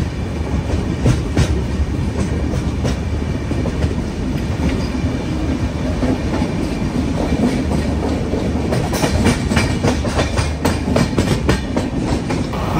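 The SMVT Bengaluru to Guwahati Superfast Express runs at speed. Continuous wheel rumble and rhythmic clickety-clack over rail joints fill the ride, steady and close, with sharper clacks near the end and no talk.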